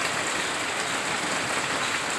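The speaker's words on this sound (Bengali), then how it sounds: "দেখো আমাদের এখানে কি বৃষ্টি হচ্ছে" Steady heavy rain falls outside onto a street where water has pooled, a continuous dense broadband hiss that holds at the same level throughout with no voices.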